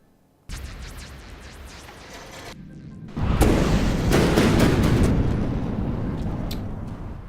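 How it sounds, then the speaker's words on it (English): Old-fashioned sailing ships from the Onyx Watch faction fire their cannons in the naval combat game From the Depths, a sustained loud booming barrage that starts abruptly, then swells into a heavier, denser roar of overlapping blasts. "The Onyx Watch's old-fashioned sailing ships. I do love these things, but their cannons really terrify me."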